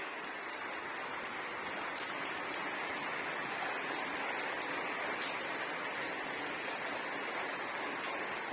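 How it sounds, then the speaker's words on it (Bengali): Heavy rain falls steadily and densely, a continuous broadband hiss with fine drop patter that holds constant and fairly quiet throughout, with no talking. "এই দেখো বৃষ্টি হয়েই যাচ্ছে হয়েই যাচ্ছে"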